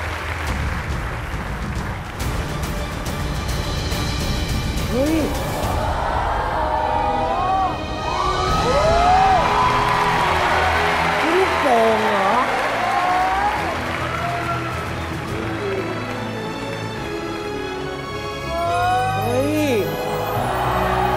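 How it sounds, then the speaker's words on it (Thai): A studio audience at a talent show stage applauds and cheers for a haute couture dress built from about 700 twisted balloons, a loud, sustained wash of clapping with whoops and high whistles rising through it. "ขอเสียงปรบมือกับงานศิลปะของเล็กนะครับ"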